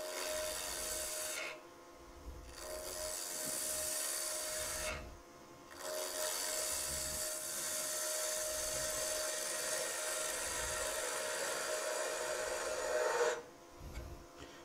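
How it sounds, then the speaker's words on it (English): A turning tool cuts across the end face of a square wooden mallet spinning on a lathe at about 1300 RPM, a steady scraping rasp in long passes broken by short pauses. "I'm gonna cut across the face, referencing the bevel"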